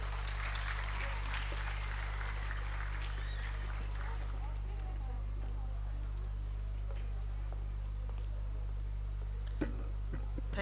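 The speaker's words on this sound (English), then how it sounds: "May we have a round of applause" Audience applause at a school annual day celebration, a dense, steady wash of clapping that starts loud and full, then thins and fades through the rest of the clip, continuing at a lower level to the end.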